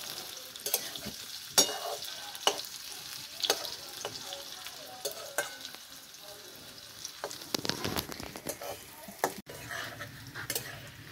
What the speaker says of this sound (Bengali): ফুলকপি ভাজা প্রায় কমপ্লিট